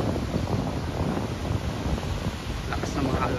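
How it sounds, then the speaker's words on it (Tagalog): Heavy surf crashes continuously against a rocky seashore with no sand, a steady broadband roar with gusts of wind buffeting the microphone throughout. "Lakas ng mga alon guys. Lakas ng alon."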